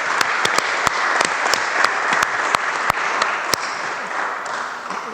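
Loud, sustained applause from an audience at a commemorative colloquium, dense clapping filling the room with a few sharp individual claps cutting through, steady for several seconds before easing slightly.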